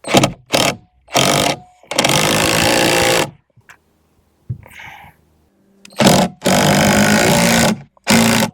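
A power drill drives 2.5-inch deck screws into wood legs for a 5-gallon bucket container garden, in loud close bursts: short rapid stutters, then a long steady run, with a quiet pause and small clatter between.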